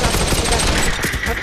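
P90 gunfire in the POPULATION: ONE VR game rattles out as a brief dense burst of rapid shots, loud and close, with a voice partly mixed in.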